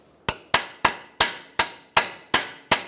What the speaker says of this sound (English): So we're just going to use a pry bar here for this and get that mount.